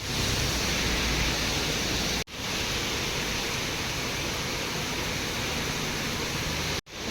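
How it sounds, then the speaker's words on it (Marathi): A downpour in Sangola sends water rushing along the roadside. The result is a loud, unbroken wash of noise, interrupted by two very brief dropouts. "जोरदार पाऊस आहे"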